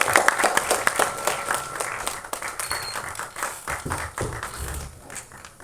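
Audience applause at an album song screening festival welcoming a guest to the stage, steady loud clapping from a hall crowd that holds for several seconds before tapering off.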